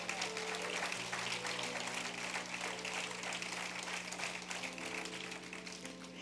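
A church congregation claps steadily, a dense wash of applause held at a moderate distance, with sustained organ or keyboard tones running beneath it.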